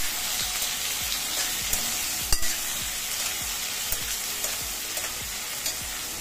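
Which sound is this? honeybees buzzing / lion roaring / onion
onion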